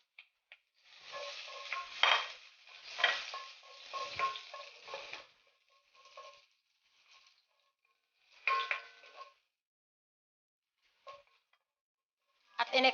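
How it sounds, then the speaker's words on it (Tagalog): Pork liempo sautés in a hot pan for kinamatisang baboy, crackling and sizzling in bursts with stirring scrapes, then falling quiet between shorter spurts of frying noise. "At tayo ay magsusote na para sa ating kinamatisang pork liempo."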